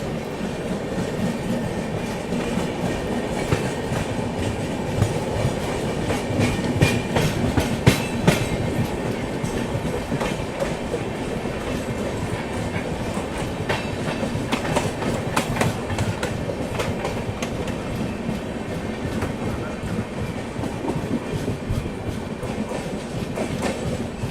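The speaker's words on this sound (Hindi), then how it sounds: "इसी के साथ हमारा भी हल्का एक्सेलरेशन शुरू हुआ है" Passenger express train slowly picking up speed, steady loud rumble with rhythmic clickety-clack of wheels over rail joints, heard from inside the coach without talk.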